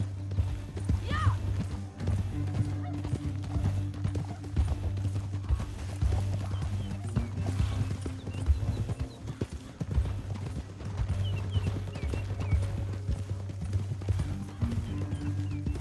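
Horse hooves clip-clop in a steady trotting rhythm over a continuous low drone and background score in the video game Red Dead Redemption 2, with no talking.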